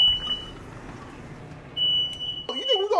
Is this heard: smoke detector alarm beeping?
yes